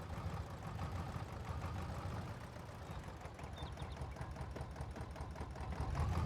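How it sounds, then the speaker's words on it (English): An old tractor engine idles steadily in Farming Simulator 22, a low, even mechanical rumble with a fast, regular knock that holds for several seconds and swells slightly at the very end. "Kind of a neat little old tractor though."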